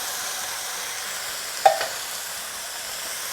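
Ginger, garlic and green chili fry in a pan for a paneer egg jalfrezi, a soft steady sizzle broken by a single brief clink of a stirring utensil midway.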